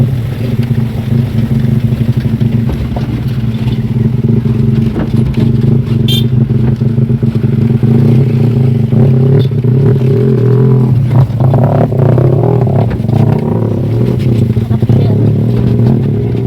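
A small scooter engine drones loudly and steadily nearby, with occasional revving and clattering over the continuous hum.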